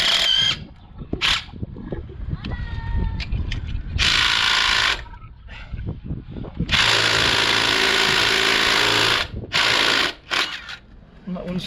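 A 7 mm Allen bit on a power tool working a stubborn bolt on a Citroen C4 Grand Picasso front lower control arm near the brake caliper: loud whirring bursts with rattling clicks, interspersed with metallic clanks and handling noise.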